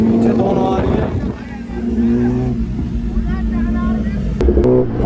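A modified Volkswagen Polo and a Kawasaki Ninja ZX-10R sportbike run side by side, their engines droning loudly and rising into sharp revs toward the end, with voices talking over the noise.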